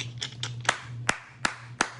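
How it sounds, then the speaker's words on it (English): A parent claps softly in a quiet room, about half a dozen light, separate hand claps at an uneven rhythm over a low steady hum. "Let me not clap too loud."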